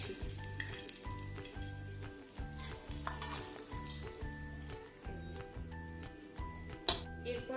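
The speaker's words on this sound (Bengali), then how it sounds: "সব মাছগুলো ভাজা হয়ে গেছে, এবার আমি মাছগুলোকে তুলে নিচ্ছি।" Fried tengra fish sizzles in a pan as it is lifted out, with crackling oil spatter and light pan clatter over steady rhythmic background music.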